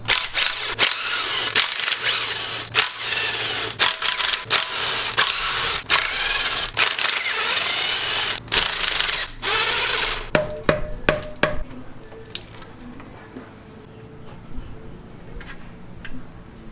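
Sharp metallic clanks and taps of hand tools work loose the lower oil pan of a blown car engine in a garage, irregular knocks and ratchety clicks that thin out into a few sparse, quieter clinks.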